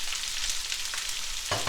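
Beef for beef bourguignon sizzling in a hot pot on high heat, a steady bright hiss throughout, close, with a louder burst near the end as more goes in.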